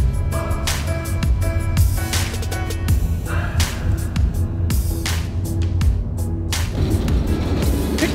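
A car rolls along on a long road trip, giving a steady loud road rumble with repeated clicking and knocking noises over the top, close and continuous without talking.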